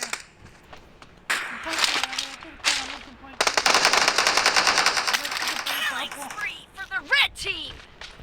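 Bursts of rapid automatic gunfire crackle in the BGMI mobile shooter, the volleys coming in several loud runs separated by short pauses, with someone talking over the action.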